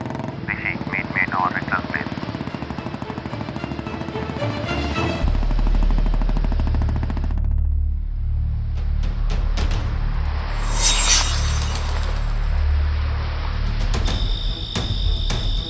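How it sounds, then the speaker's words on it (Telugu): Loud gunshots and rapid machine gun fire ring out against a heavy rumbling background, with a voice speaking over parts of it as the firing continues in clustered bursts. "Just aim the gun at the target and boom."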